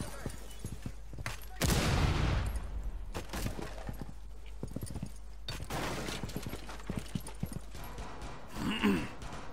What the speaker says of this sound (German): Wer ballert denn da schon wie wild?